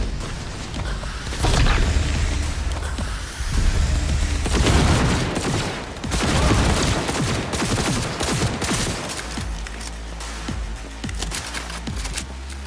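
Heavy gunfire erupts in the video game Cyberpunk 2077, loud overlapping bursts and volleys crackling almost continuously, with booming surges and brief lulls between salvos.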